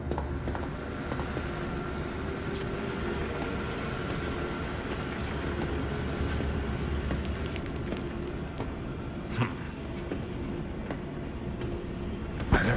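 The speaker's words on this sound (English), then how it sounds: "Now drag the trolley to the gates." Gadget trolley from the video game Zoochosis rolling along rails, a steady low rumble with a faint metallic hiss that holds for about thirteen seconds, with a couple of brief clanks near the end.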